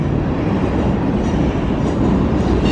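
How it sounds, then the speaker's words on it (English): A train passes below in Baton Rouge, a loud continuous rumble and rattle of rail cars heard close from above, steady throughout. "I'm right over the train now."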